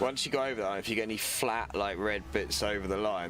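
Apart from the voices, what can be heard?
No everyday noise stands out behind the speech.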